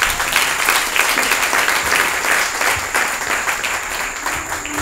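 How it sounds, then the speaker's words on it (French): Church congregation applauding the prophet Amos from Cameroon, a loud, dense and continuous round of clapping that holds steady throughout. "On va l'applaudir, alléluia."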